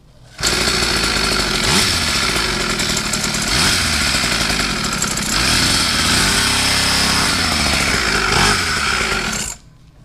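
A SYX Moto mini dirt bike engine runs loud and steady for nearly the whole stretch, with a raspy, buzzing two-stroke-like drone and slight rises in revs, stopping abruptly at the end.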